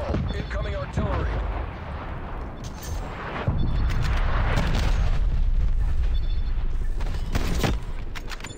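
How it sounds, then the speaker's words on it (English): Incoming artillery strike in the Black Ops Cold War video game, with dense rumbling blasts and booming impacts under a loud, continuous battle din, joined by sharper cracks of gunfire; a voice talks during it. "Incoming artillery."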